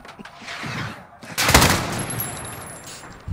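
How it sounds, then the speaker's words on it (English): Modern Warfare gunfire crackles in scattered shots, then a loud burst of rapid fire with a heavy blast dominates the middle, with a thin high tone ringing afterward. "Firing."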